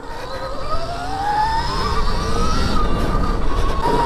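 A Stark Varg electric dirt bike ridden across a bridge near an abandoned waterpark gives a rising, steady electric motor whine that builds in pitch, mixed with rushing wind and road rumble, close and loud.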